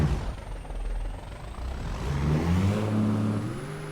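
A Kenworth W900 truck engine in American Truck Simulator strains under load, its steady drone climbing in pitch over the second half as it labors harder, fairly loud and continuous with no talk.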